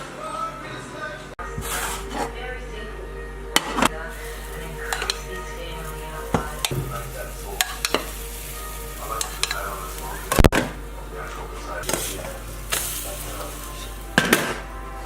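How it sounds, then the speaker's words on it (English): Protein pancake batter frying in coconut oil in a pan, a steady close sizzle with occasional clinks and scrapes of utensils, with brief speech now and then. "And we mash that up, put it in the fry pan, and get it going."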